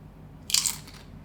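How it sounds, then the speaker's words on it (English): One sharp, close crunch as someone bites into Taco Bell chips, a crisp burst of cracking lasting about half a second against a quiet background. "Very satisfying crunch."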